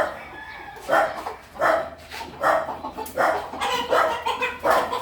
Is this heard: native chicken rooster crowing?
yes